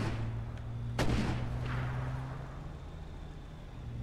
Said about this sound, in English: They're always shooting.